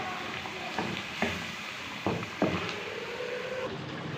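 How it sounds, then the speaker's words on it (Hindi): Potatoes frying in masala in a pan for aloo anday ka salan, a low steady sizzle with several soft scrapes and knocks of the spoon, close and quiet. "जब तक मसाला भूनता भूनता सारा आलू भी अच्छे से इसके अंदर पक जाएंगे"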